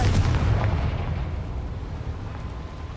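In the Hogwarts Legacy video game, a Confringo spell explodes with a loud, heavy boom that rumbles and fades over a few seconds, with no voices.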